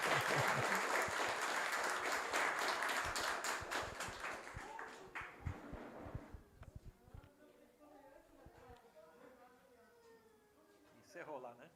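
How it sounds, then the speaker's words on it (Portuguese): An audience claps loudly at first, a thick burst of applause that thins out over about six seconds into scattered claps, followed by quieter conversation and a few final taps. "Vamos aplaudir o seu Shimomura."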